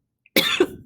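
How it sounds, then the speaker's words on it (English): A single sharp cough, close and fairly loud, followed by a brief second burst, with no talking. "No one wants to cough during COVID."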